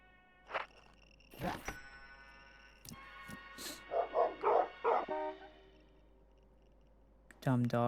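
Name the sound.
dogs barking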